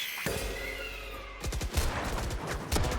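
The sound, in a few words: gunfire in the video game Valorant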